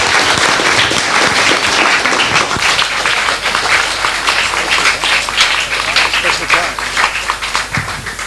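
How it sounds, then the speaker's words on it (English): An audience at a journalism talk applauds, a dense, loud wash of many hands clapping steadily for several seconds before gradually thinning toward the end. "please give a big round of applause to Ellen"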